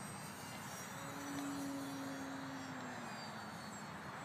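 An E-flite P-47 radio-controlled model airplane flies overhead, its electric motor giving a steady whine that rises slightly as it passes, fairly faint and distant against outdoor background noise.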